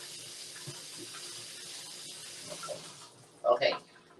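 Water runs steadily from a kitchen tap while hands are washed during cooking, a soft continuous hiss under a quiet voice, ending with a couple of louder splashes.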